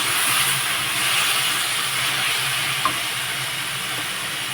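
Beetroot pieces stirred in a hot pan, a steady broad sizzling hiss close by with faint scraping, continuous and even throughout with one small knock partway.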